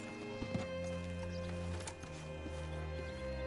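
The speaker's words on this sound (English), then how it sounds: "Hitch your horse up here." Horse hooves clip-clop at a steady walking pace in an open-world Western video game, the light rhythmic clopping set against a constant droning musical backdrop, with no talk.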